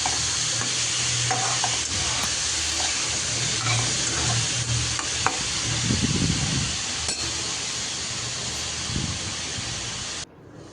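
Boiled cauliflower and potato being stir-fried in a pan, a continuous loud sizzle with scraping and stirring strokes throughout, close up and without talk.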